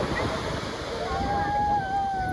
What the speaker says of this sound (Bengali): বড় বড় ঢেউ ওঠে